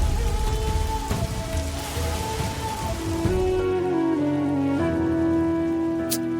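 Rain falling steadily outdoors, a dense, even hiss of drops on surfaces that continues unbroken and fairly loud throughout, with tonal background music underneath and no talking.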